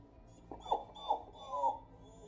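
A weak, distressed dog whimpers from behind a closed door, three short rising whines spaced through a quiet, muffled background.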